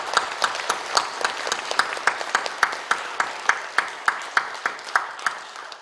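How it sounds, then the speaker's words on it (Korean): A church congregation clapping at an anniversary ordination service, a steady rhythmic unison applause of many hands in a reverberant hall, moderately loud. "우리 박수로 한번 축하해 주실까요?"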